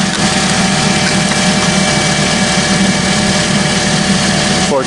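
A Toyota Matrix with a 1.8L engine idles steadily after an alternator replacement, with a constant low rumble and hum that stays up close.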